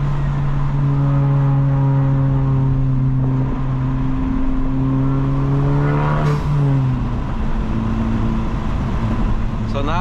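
A built 2025 Honda Civic Type R FL5 turbo engine revving past 4,000 RPM, heard from inside the car as a loud, steady rising drone, a shift-like drop near the middle, then climbing again, with a voice talking over it.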